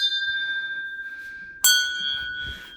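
Temple bells on a hillside ring out, one sustained metallic tone decaying before a sharp fresh strike rings bright and lingers, fairly close with little else around.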